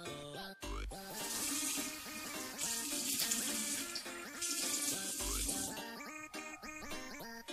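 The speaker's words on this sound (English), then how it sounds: "And I'm washing my face." Tap water runs steadily into a sink while someone washes their face at home, a continuous splashing stream with brief interruptions as hands move through it, fairly close and with no talk.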